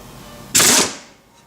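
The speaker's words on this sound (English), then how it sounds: "I'm just going to go ahead and blast this loose with the air." An air impact wrench fires one short, loud burst on a trailing arm part to break it loose, then cuts off, leaving a fading hiss.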